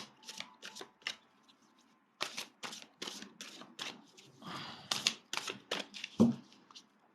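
Angel oracle cards being shuffled and drawn, a run of quick papery riffles and snaps in bursts with short pauses, close and fairly quiet, ending in a sharper slap.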